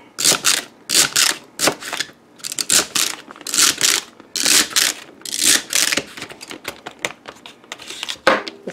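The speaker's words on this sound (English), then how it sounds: "I'm going to quickly cut that up into very small pieces" Knife chopping washed celery into very small pieces on a cutting board, a fast run of sharp, crisp taps in close bursts, loud and near with no talk.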